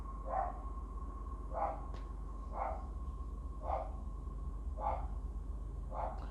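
A dog barks at a distance, six single barks spaced evenly about a second apart over a low steady rumble.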